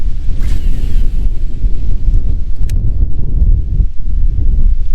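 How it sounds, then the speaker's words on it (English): Strong wind buffets a microphone on a fishing boat, a loud continuous low rumble with gusty swells and no voices. "You can probably see this wind's just jittering me around everywhere."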